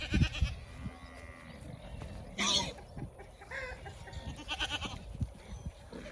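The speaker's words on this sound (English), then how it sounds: "here is a couple of our dairy goats" Dairy goats on a farm bleat a few times, with one loud, clear bleat near the middle and fainter calls around it, over scattered rustling and handling noise close by.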